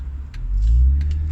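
A Jeep Wrangler with a 3.6 V6 driving, a deep engine rumble that swells briefly as it pulls, close and steady with no talking.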